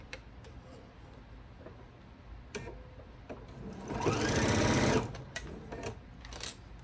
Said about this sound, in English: we're going to sew our scant 1/4 inch